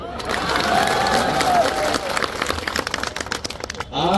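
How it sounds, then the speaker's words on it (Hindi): A crowd at a political rally in a village in Badnawar claps and cheers in a dense, sustained burst that tapers off near the end, with a loudspeaker voice faintly under it. "अगर याद है तो ताली बजाओ।"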